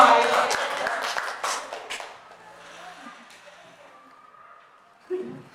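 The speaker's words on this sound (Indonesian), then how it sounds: "tepuk tangan untuk kita semua" In a school workshop on positive discipline culture, a quick burst of group clapping rises briefly, then thins out within about two seconds, leaving a quieter room where a voice is heard.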